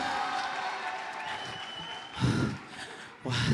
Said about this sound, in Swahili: Upige makofi.